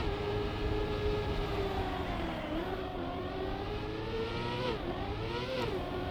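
Car drifting through a turn in the racing game Trackmania, a continuous engine drone with shifting pitch as the revs dip and rise through the corner, loud and unbroken.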